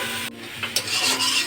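Elephant apple (chalta) pieces being fried and stirred in a pan for pickle, a short scraping stir with a faint sizzle, close and without talk.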